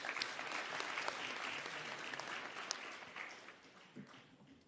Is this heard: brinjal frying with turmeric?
no